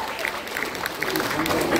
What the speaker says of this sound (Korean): 많은 박수 감사합니다.